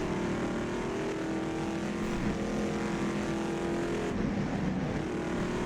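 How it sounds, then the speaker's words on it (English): A 1964 Shelby Daytona race car in the rFactor 2 racing game lapping the Sudstrecke circuit, its engine droning loud and steady with a throttle change late on, with no voices. "Pump up the throttle there, just move that weight around in the car."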